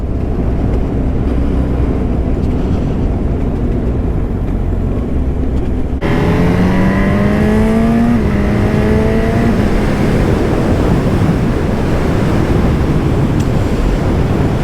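Honda Hornet 1000 motorcycle accelerating hard in its sporty mode, heard from the rider's position: a steady engine drone, then a louder rising whine climbing through the revs under heavy wind rush, no talking.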